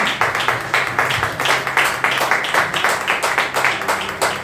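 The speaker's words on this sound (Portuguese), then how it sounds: "as palmas do louvor" A church congregation claps together in praise during a worship service, a loud steady rhythmic clapping that fills the whole clip without pause.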